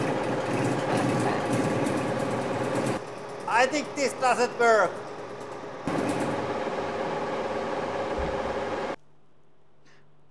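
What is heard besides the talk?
small drills running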